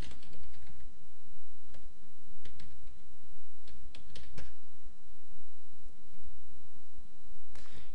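Username and password being typed on a computer keyboard, with irregular bursts of crisp key clicks and a few sharper taps over a steady low hum, close and fairly loud, no voices.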